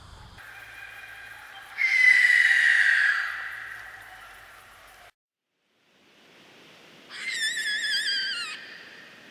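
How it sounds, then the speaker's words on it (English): Greater sooty owl calls: two long, loud, descending shrieking screeches separated by a stretch of silence, set against a steady background hiss. "That's the greater sooty owl."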